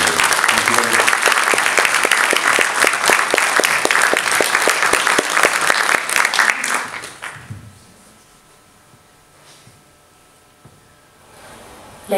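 Full audience applause for Martin Mitchell at an arts centre, loud and dense for about seven seconds, with a rhythmic clapping pulse emerging before it fades quickly into quiet room tone.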